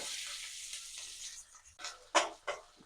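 Onions going into hot oil with cinnamon, cloves and cardamom for paneer butter masala: a soft sizzle fading, then a few louder hissing bursts as the pan is stirred, fairly quiet and close.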